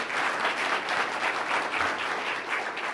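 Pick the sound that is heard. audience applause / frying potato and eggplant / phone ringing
audience applause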